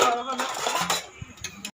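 Metal dishes clatter and scrape against each other up close, a busy continuous scrubbing that stops abruptly.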